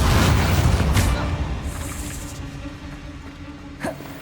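A Bombarda explosion spell cast in Hogwarts Legacy inside the Feldcroft Catacomb dungeon: one loud, close burst that fades into a decaying rumble, with a faint pop near the end.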